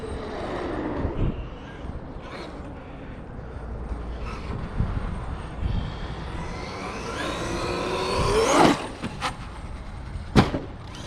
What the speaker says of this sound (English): Big old chassis slap.